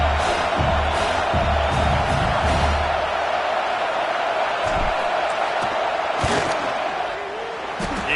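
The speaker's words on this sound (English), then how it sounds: "This crowd trying to do its part to get inside the kicker's head." A loud, steady roar from a football stadium crowd during a fourth-down field goal attempt by the kicker, sustained throughout with scattered cheers and shouts, while a commentator talks over it.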